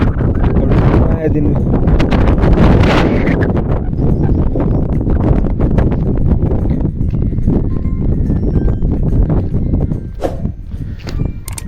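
Strong wind buffets a rooftop terrace, a loud, continuous rushing roar that runs through the whole stretch while someone talks over it.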